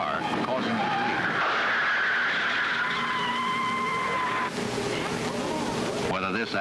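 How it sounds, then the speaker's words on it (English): A car skids and collides with a streetcar, a loud sustained rush of tire and engine noise with tonal squealing that shifts abruptly midway, ending in a rising screech; narration runs over it. "an automobile speeds up alongside of the streetcar, and without warning, it cuts across in front of the car, causing a collision"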